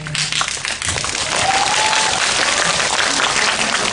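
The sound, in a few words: audience applause at movie talk event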